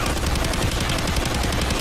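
Rapid gunfire from the heist shooter game Payday 2, a dense continuous barrage of automatic shots with no gaps, loud and close throughout.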